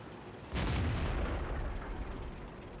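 A single deep, booming tank cannon blast from World of Tanks erupts suddenly and rolls on as a sustained low rumble, fairly quiet overall, with no talking.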